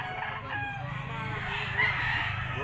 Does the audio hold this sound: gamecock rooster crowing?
yes